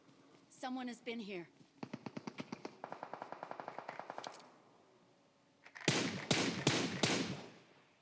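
Gunfire in the PUBG Mobile Livik mode: a short voice opens, then a long rapid automatic burst of shots, a pause, and several louder, sharper bursts close to the end.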